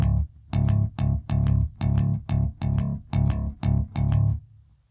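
Bass guitar picking a repeating double-single-double pattern on a low D, about a dozen clipped, evenly spaced plucked notes in a steady rhythm, loud and close, played alone.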